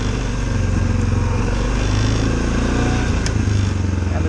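Dirt bike engine idling steadily on a Connecticut trail, shifted into low gear; a loud, continuous low rumble runs throughout with a slight rise in pitch midway.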